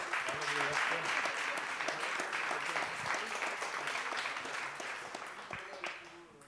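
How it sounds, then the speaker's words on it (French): Sustained applause from an audience at an award ceremony for a hacking challenge, dense steady clapping filling the room at moderate loudness, tapering slightly toward the end, with some voices mixed in. "On peut les applaudir, je pense."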